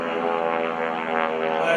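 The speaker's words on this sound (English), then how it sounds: "I love the sound of that airplane." A North American Texan propeller airplane flying aerobatics at the 2011 Greenwood Lake Airshow makes a loud, steady, throaty engine drone that holds evenly throughout and swells slightly toward the end.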